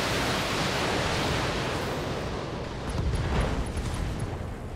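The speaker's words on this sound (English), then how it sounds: "Ammo explosion." A mech's ammunition cooks off in the video game BattleTech, a loud, sustained roaring blast with a rumbling swell near the end, heard alone without talk.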